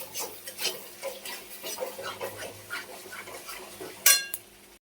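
A spoon scrapes and stirs thick spice masala cooked in oil in a metal pot. The soft, irregular strokes stay close, and a sharp clank of the utensil against the rim comes near the end.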